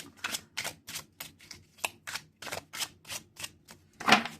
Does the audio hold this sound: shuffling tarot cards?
yes